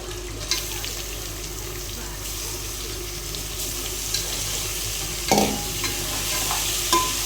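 Chicken frying in a pressure cooker under a steady hiss of sizzling oil, with a few louder clunks as it is stirred and mixed, close by and continuous, with no talking.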